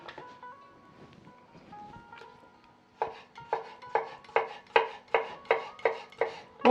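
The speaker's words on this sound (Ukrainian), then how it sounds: "Також я нарізаю огірки соломкою." Quiet clinks and background tones, then a knife chops rhythmically on a board, cutting cucumbers into strips, about a dozen sharp, evenly spaced cuts growing steadily louder.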